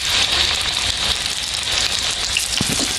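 Banana flower vada fries in hot oil on a low flame, giving a steady, dense sizzle and crackle that stays loud and continuous throughout, with no talking.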